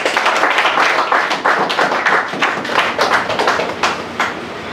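A church congregation claps together in acclamation at an evangelist's service, a steady run of sharp, fairly close handclaps and taps lasting throughout.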